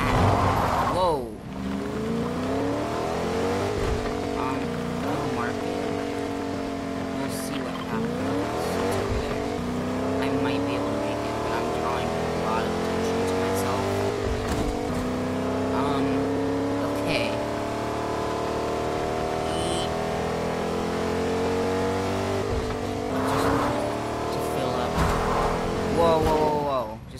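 Car engine in Fortnite droning steadily with shifting revs and occasional tire squeals while driving over rough terrain, loud and continuous throughout, with players talking over it.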